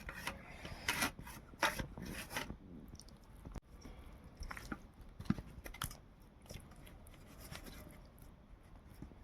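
Wet, squishy hand-mixing sounds of spice paste being rubbed into fish for kabab, soft irregular squelches and smacks close by, with a few louder bursts early on.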